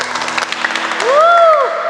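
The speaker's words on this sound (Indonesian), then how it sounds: "Kasih tepuk tangan untuk Tuhan Yesus" A crowd applauds, clapping steadily with scattered cheers and voices over the top, and a short whistling tone rises near the end.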